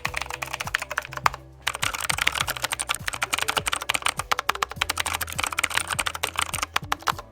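Fast, steady typing on a Keychron K8 Retro mechanical keyboard with an aluminum frame, wired by USB cable: crisp, close clacking keystrokes in a continuous rhythm, with one brief pause, alone without talk.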